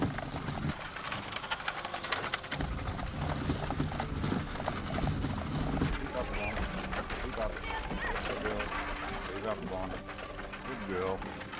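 Horse hooves clip-clop steadily as a pair pulls a stagecoach driven by coach drivers at a hotel anniversary celebration in Woodstock, the rhythmic clatter running throughout beneath continuous crowd chatter and voices.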